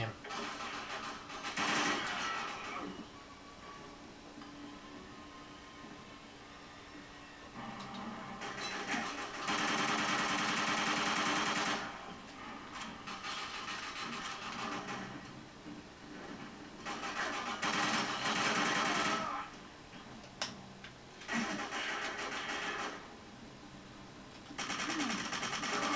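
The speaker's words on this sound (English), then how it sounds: "Sounds much better with the silencer on." Silenced gunfire in the 007 Quantum of Solace video game comes as repeated mechanical bursts of rapid, buzzing shots separated by quieter gaps, fairly faint and steady in rhythm.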